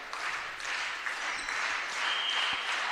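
A crowd at a NAIA college volleyball match between St. Thomas and Columbia claps and cheers loudly, a dense wash of applause that holds steady to the end.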